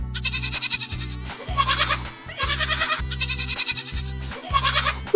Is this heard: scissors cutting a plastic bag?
no